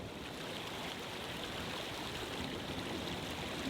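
A clear mountain stream in the Altai runs over rocks, giving a steady, close, continuous rush of water with no pauses.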